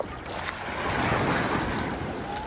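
Ocean waves wash onto Kata Beach in Phuket, a steady surf roar blended with wind rushing against the microphone, and no talking.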